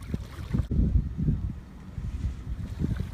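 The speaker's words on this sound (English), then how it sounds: "I'm on board a Hobie Mirage i9S inflatable with Mirage drive" A Hobie Mirage i9S inflatable kayak with a Mirage pedal drive and sail kit runs downwind on Ballona Creek, with gusty wind buffeting the microphone and low water sloshing against the hull, close and fairly quiet.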